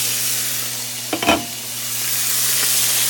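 Turkey pieces fry in a pan with a constant close hiss and sizzle, broken by a brief scraping stir of a utensil midway, over a low steady kitchen hum.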